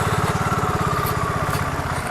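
A BSA Goldstar 650 single-cylinder motorcycle idles close by with a steady, lumpy thump, a low rhythmic throb held through the whole short stretch without any speech.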